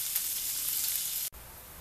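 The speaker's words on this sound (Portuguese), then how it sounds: "vamos fritar esse bacon bem fritinho, bem torradinho" Bacon frying in lard in a pan, a faint, steady crackling sizzle with fine spitting hiss, briefly cut off near the end before resuming softly.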